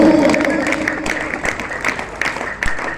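A crowd at a school's annual sports meet applauds after a girls' 1500-metre race, with dense, fairly loud clapping that rises and falls in waves and a voice briefly heard underneath.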